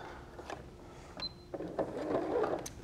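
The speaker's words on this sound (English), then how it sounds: "I'm going to sew either side of the line, cut them down the middle" A sewing machine stitches quilt block pieces for a Bouvardia block, with a soft whirring run that builds after a few quiet clicks and handling noises. The sound is close but low in level, with no speech.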